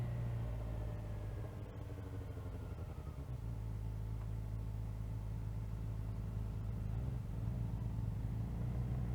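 A 2024 Kawasaki Ninja ZX-4RR motorcycle engine drones steadily at close range, a loud continuous rumble with shifting tones as it pulls and changes pitch without pause.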